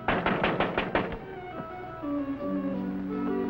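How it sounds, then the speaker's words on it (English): Knocking on the door of the mayor's house: about half a dozen quick, loud, close raps at the start, then a sustained musical tone rises and carries on alone. "That man knocking on the door."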